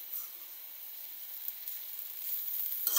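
Taro stolons (loti) fry in oil, giving a steady, close hiss of sizzling that swells slightly near the end.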